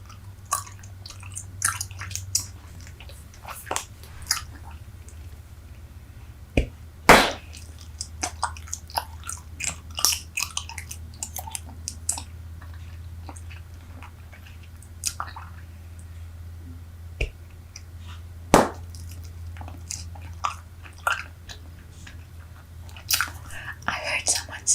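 Rubbery Super Bubble bubble gum chewed right against the microphone, wet squishy smacks and clicks repeating irregularly over a low steady hum, with a few louder snaps.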